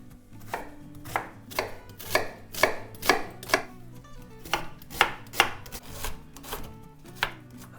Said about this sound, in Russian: Лук пока нарезаю кубиками.